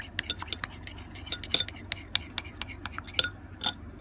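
A spoon clinking and scraping against the side of a bowl while stirring kutsinta food-coloring mixture, a quick irregular run of sharp metallic taps close up.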